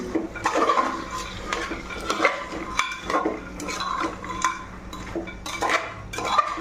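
Small cut potato pieces being stirred in a pan with a metal utensil, giving repeated scraping clinks and clatters at a steady, close, moderate level with faint sizzling beneath.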